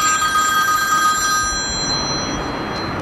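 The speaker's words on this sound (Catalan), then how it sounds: "Un telèfon vell." An old telephone bell rings loudly for about a second and a half, its tone then fading into a steady background hiss, with no one talking.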